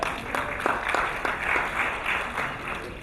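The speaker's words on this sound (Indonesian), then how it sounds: "Tepuk tangan dong." A seminar audience claps together in a sustained burst of moderately loud applause, with individual claps audible and no one speaking.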